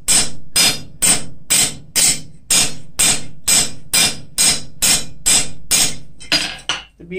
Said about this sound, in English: Beat in your bevels